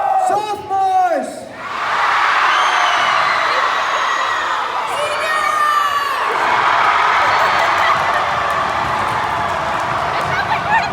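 Sophomore class students at a high school homecoming assembly erupt in loud, sustained crowd cheering and yelling after a brief call from one voice, the roar staying dense and steady to the end.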